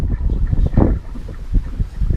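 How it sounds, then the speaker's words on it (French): Wind gusts roar over a quiet beach on Surin Island in Thailand, a close, rumbling buffeting of the microphone that surges and eases continuously, with no voices. "la plage est bercée par le vent"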